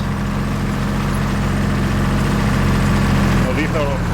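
A tank engine in a video game idles with a steady, deep mechanical drone throughout, joined near the end by a brief rising whine and voices.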